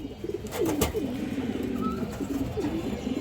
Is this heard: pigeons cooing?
yes